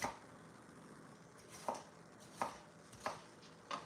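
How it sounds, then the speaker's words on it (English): Knife chopping roasted peppers on a cutting board, four or five separate crisp cuts spaced irregularly, fairly close and quiet against faint kitchen background noise. "for your peppers, to make cutting up easier, just cut them from the inside versus the outside"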